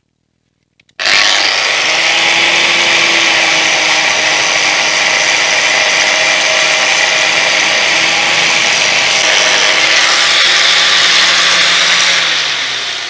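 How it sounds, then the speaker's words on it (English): Angle grinder fitted with a paint remover wheel working a Citroën C5 part, starting abruptly and then running loud and steady at close range for about twelve seconds before easing slightly near the end. "So, grinder time. Safety first. I'm going to take the grinder to this thing here."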